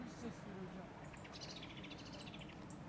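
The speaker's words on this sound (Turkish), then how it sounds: "Çok kuş var buralarda." Small birds chirp in countryside near Datça on a coastal walk toward a daffodil field, a quick run of high tweets in the middle, fairly faint over a dense steady background hiss, with no talk.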